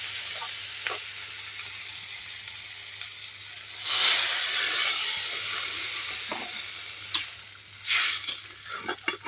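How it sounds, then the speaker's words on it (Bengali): Curry in a pan sizzling as water is added, a sharp hissing burst of frying followed by a second surge, with light stirring and clinks of cookware over steady low background hum. "এই যে এখন জল দেওয়া দেবো।"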